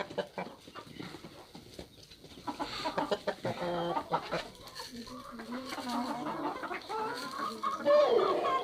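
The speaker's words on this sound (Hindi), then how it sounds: "ये जो कश्मीरी नस्ल का ये मुर्गा है" Kashmiri-breed rooster and hens cluck in a mixed backyard flock, with scattered soft clucks and calls nearby and occasional other birds in the background.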